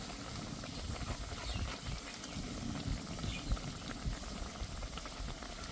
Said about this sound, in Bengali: কম আঁচে কিন্তু ভাজতে হবে